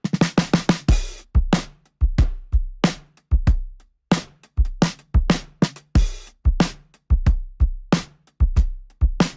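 Addictive Drums virtual kit plays a crisp, punchy groove of tight kick and snare hits with cymbal crashes in a steady fast rhythm, loud and up front, with no voices.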